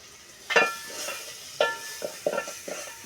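Onions tipped into a hot pan for a Sylheti village-style curry of taro (kochur mukhi) dal with shrimp, giving a few short sizzling bursts with scraping stirs between them, close and fairly quiet with no one speaking.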